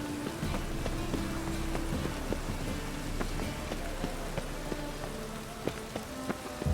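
Constant rain in The Witcher 3 patters on surfaces while horse hooves clip-clop through it in a steady rhythm, with no talking.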